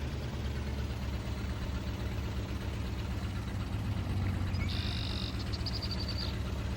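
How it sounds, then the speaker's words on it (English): Tractor engine idling in Farming Simulator 22, a steady low rumble that runs continuously and evenly throughout, with a brief high whine rising briefly near the end. "maybe I can back the tractor up a little more"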